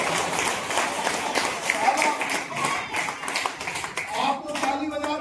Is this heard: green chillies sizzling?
no